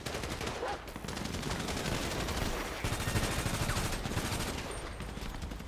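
Gunfire in a shooting video game comes as dense, continuous bursts of rapid shots, loud and sustained for several seconds with a short break near the middle and no speech.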